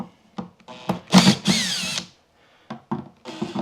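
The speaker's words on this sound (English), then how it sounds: "So I'll remove some of the screws." A power drill backs screws out of a wooden beehive brood box in two close whirring bursts with rising pitch, followed by short clicks and knocks of handling, no voices.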